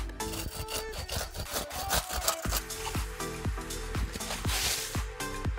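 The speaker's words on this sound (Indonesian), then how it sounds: "Kita gunakan gergaji." A hand saw cuts through a Musang King durian tree branch during pruning, with steady rhythmic back-and-forth rasping strokes, loud and close, with no talking.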